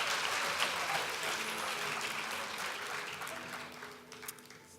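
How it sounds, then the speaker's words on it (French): An audience applauds a participant at a college talent show, a dense wash of clapping from the crowd that holds steady and then slowly tapers off, with no one speaking over it. "Une bonne main d'applaudissement quand même pour sa participation."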